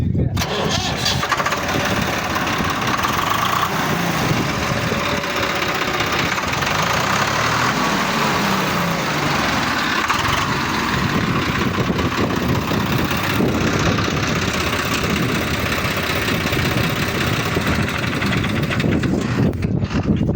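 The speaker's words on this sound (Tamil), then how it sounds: "வண்டி ஸ்டார்ட் பண்ணி காட்டுறேன் பாருங்கள்." A vehicle with about 750 hours of running time, manufactured in 2020, starts and then settles into a loud, continuous engine idle that runs the whole clip, with someone talking over it.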